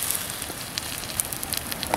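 A campfire crackles in rainforest on the Marten Creek Trail, with faint, sparse pops and snaps over a steady hiss, no one talking.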